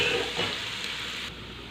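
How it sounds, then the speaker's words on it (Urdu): Ginger garlic paste sizzles and spits in hot oil in a pan with browning onions as it is stirred, a steady close frying hiss with a few soft scrapes and no talking. "اب ہم اس میں ادرک اور لہسن کا جو پیسٹ ہے وہ ڈال دیں گے۔ اس کو اچھی طرح مکس کر دینا ہے ہم نے"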